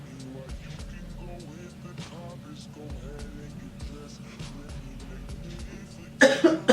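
A woman coughs indoors, a burst of harsh coughs near the end after low background noise and quiet voice sounds.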